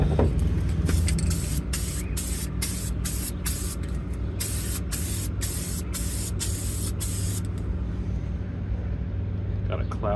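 A spray paint can hisses steadily as green paint is sprayed onto an M1C helmet, a continuous loud spray with brief breaks in the first half, stopping near the end.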